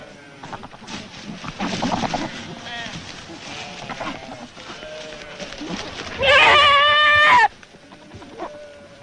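Male goats crossing a snowy pasture in search of females, with a loud, wavering bleat near the end over a steady background of narration and faint animal noise.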